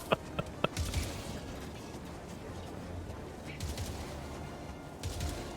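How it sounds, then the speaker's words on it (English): Sharp gunshots from an enemy bot in a stealth-mission video game, a few quick cracks near the start and then scattered distant pops over steady ambient noise. "this one bot right here won't stop shooting"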